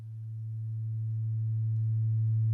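A sustained low synthesizer tone from a sound font VST plugin, a single steady note swelling gradually louder over a slow attack envelope, alone with no other sounds.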